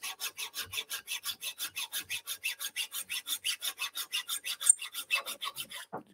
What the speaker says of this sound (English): I'm going to turn the file over because I want to do this corner.